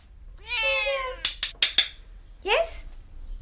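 A three-legged rescue house cat gives a long, rising meow, then a few short sharp clicks or taps, then a second shorter meow, close and clear in a quiet room.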